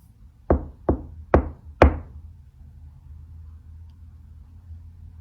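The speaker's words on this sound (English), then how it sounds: "I'm gonna knock again." Four sharp knocks land on a basement floor above a hollow space, coming in quick succession about half a second apart, followed by quiet low background rumble.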